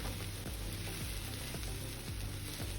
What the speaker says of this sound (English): The gas is on low and now let's mix this properly.